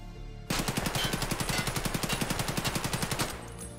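An AKS-74U rifle in Escape From Tarkov fires from a crouch in one sustained full-auto burst of roughly twenty-five evenly spaced shots, loud and close, then stops abruptly.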